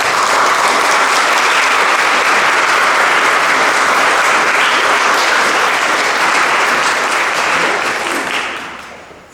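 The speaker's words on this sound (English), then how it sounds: "So let's give him a round of applause before he gets up here." Applause from the audience at a memorial service, a thick, steady wash of clapping held at full strength for several seconds before dying away at the end.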